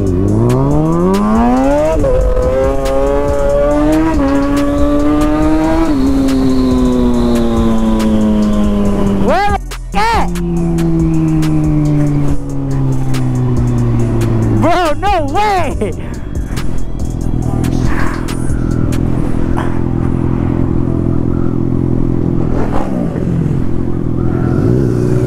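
A Kawasaki ZX6R motorcycle with its exhaust come off revs and accelerates through rising and falling engine sweeps, loud and close, with people talking over the engine noise.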